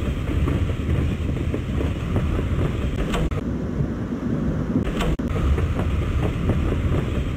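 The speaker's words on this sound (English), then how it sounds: "Nova Express is a special train that leaves from West End." Steady rumbling of the Nova Express, a special passenger train in the game Gadget, running continuously and fairly loud with a broad low roar, brief dips in level, and no talk.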